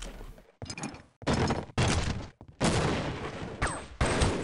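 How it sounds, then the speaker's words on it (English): Repeated explosions strike the player in the video game Half-Life Opposing Force, a rapid series of loud, close bursts and crashing impacts separated by brief silent gaps. "I'm getting exploded"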